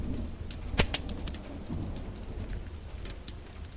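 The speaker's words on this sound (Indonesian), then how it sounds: "Hari ini hujan turun deras. Tetesan air menimbulkan suara gemuruh di luar jendela kamar." Heavy rain pours steadily with a loud, sharp crack of thunder early on and scattered drops hitting a surface, continuing as a dense wash throughout.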